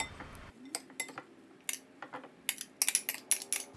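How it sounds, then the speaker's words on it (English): A utensil clinks and scrapes against a bowl while dill is tossed into coleslaw, with a string of sharp taps growing busier and louder toward the end. "just mix all that up and toss it right into the coleslaw"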